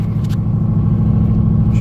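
A Chevrolet Berlinetta project car's engine runs at a steady idle, a loud, continuous low rumble close by with no change in pace and no talking.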